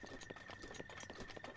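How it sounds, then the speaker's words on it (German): In Zelda Breath of the Wild, a horse's hooves clip-clop in a quick, even rhythm, faint and quiet throughout the short stretch. "Doch, da unten. Ein Hottehü."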